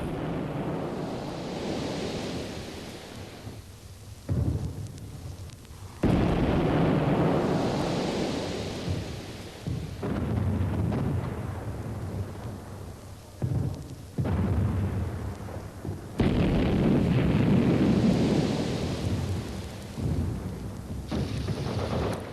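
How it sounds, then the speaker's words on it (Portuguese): Several mines detonated at once in the early hours of a wartime morning, heard as loud, deep rumbling blasts that roll and swell in repeated waves, like distant thunder, with no voices. "Todas foram explodidas ao mesmo tempo nas primeiras horas de 7 de junho, sendo ouvido o estrondo da detonação"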